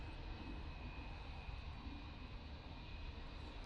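A TUI Boeing 737 MAX 8 jet on its takeoff roll at Manchester Airport, heard as a steady, distant broadband engine roar holding at a constant level.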